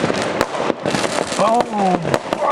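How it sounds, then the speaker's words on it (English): Fireworks going off outside a window at a New Year celebration, with sharp broadband bangs and crackling bursts repeating through the stretch, and whistling tones and voices in the background. "Now that's the fireworks I like, the beautiful ones"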